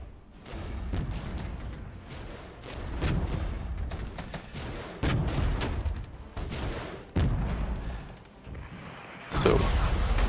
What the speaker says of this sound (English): You can call in some artillery on that position as well.